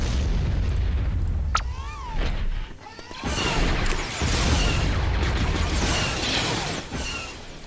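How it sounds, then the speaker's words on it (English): Artillery fire and explosions in the strategy game Empire at War: deep booms and crackling blasts that roll over one another, with a sharp burst near the start and dense, loud rumbling bombardment through the rest. "Can you, the artillery hit that bunker?"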